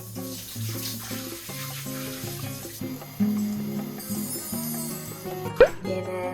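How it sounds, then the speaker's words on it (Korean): Shower water runs steadily in a home bathroom during a washing routine, a soft continuous hiss under background music, with a brief clink near the end. "그 다음에 샤워를 해줍니다"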